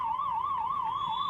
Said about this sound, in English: And so that siren signals halftime here at Varsity Field in Midtown Indianapolis.